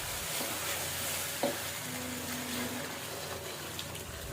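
Raw rice sizzles and scrapes in a pot as it is stirred while frying for liver biryani, a steady frying hiss with an occasional clink, close by and without speech.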